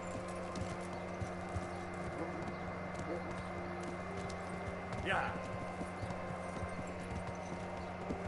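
Horse hooves clip-clopping in the medieval video game Kingdom Come Deliverance, a steady galloping rhythm under constant game ambience, with a brief bird-like chirp midway.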